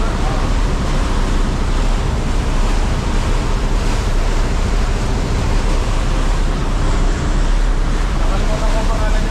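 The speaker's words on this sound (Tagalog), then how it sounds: "Medyo maalon ngayon, no?" Rough sea slaps and churns around a wooden Filipino outrigger boat (bangka), making a loud, continuous wash of surf mixed with heavy wind buffeting the microphone, without pause.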